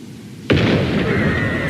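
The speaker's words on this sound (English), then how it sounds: "What was that booming noise?" A sudden loud boom erupts in Bleach Rebirth of Souls after a quiet moment, a sharp crashing impact followed by a rumbling, ringing tail that sustains to the end.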